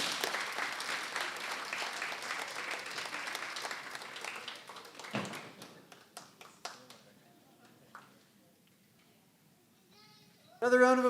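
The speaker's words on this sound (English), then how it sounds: "Another round of applause for Kristy Piette" Audience applause at a mental health stand-up comedy show, heavy clapping for the first five seconds before thinning to scattered claps and near quiet, then a sudden loud burst of sound at the very end.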